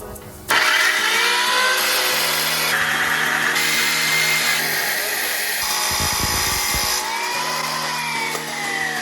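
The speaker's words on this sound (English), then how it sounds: "I'm gonna take this stick of angle iron here and cut it in half" A power tool cuts a stick of angle iron in half while a racing sim frame is built, giving a loud, steady whine with shifting pitch that runs almost the whole time, close and without talk.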